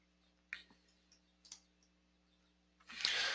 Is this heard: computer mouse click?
yes